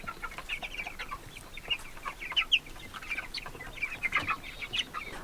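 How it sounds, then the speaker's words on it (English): Meat chickens cluck and chatter outdoors on an Alaska homestead in spring, a soft scattered flock of short calls at moderate distance over faint background noise. "the meat birds are enjoying the sunshine"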